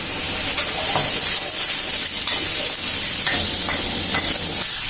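Pork, minced shrimp and vegetables stir-fry over high heat in a wok, giving a loud, continuous sizzle with scraping spatula strokes and no talking.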